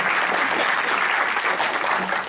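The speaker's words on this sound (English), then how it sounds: "Let's just give her an applause" Steady, dense clapping from a crowd, sustained at an even loudness throughout with no pauses.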